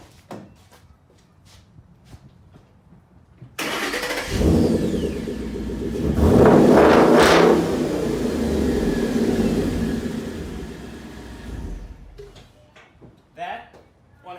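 A car engine revs loudly, building from about four seconds to a peak near seven seconds before easing off and fading by twelve seconds, with brief talk at the start and end.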